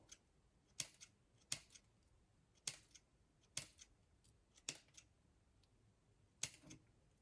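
Scissors snipping paper for a spider paper flower, six crisp close cuts at irregular intervals with faint paper rustling between them in a quiet room.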